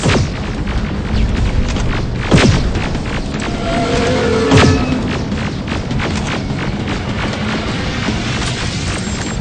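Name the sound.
rocket explosion in the video game Terminator: Resistance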